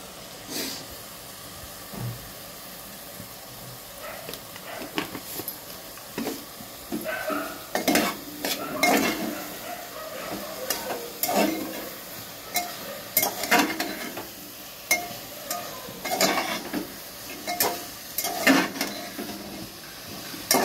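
Mutton keema with spices sautés in a pan. A spatula scrapes and clatters against the metal in irregular bursts over a soft background sizzle, continuing for a long stretch with no voices.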